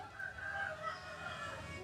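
Chickens cluck and a rooster crows faintly in the distance in a fruit orchard, brief and soft against a low outdoor background.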